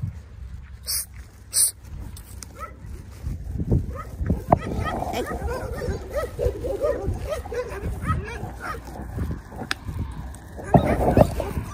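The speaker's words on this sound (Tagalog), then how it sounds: "Yung mga aso na yan, nahahabulin ka niyan." Stray dogs on a street bark and whimper nearby, irregular yips and barks with people talking throughout and brief sharp noises near the start.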